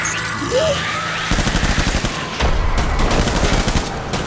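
Gunfire in the video game Death Stranding: loud, rapid automatic bursts in quick succession, close and dense, with short pauses between volleys.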